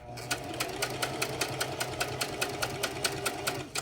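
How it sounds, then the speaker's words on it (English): A sewing machine stitches a pocket seam on a skirt, running a fast, even, steady pulse of needle strokes at close range with no talk. "this is actually going to be the seam that I'm sewing on for the pocket"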